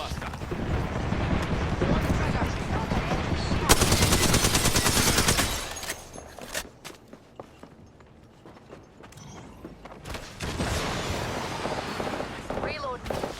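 Fuse's knuckle cluster launcher firing in Apex Legends, with loud dense bursts of gunfire and explosive blasts, a quieter stretch of scattered thuds and footsteps, then renewed heavy fire, with in-game voice lines among the action.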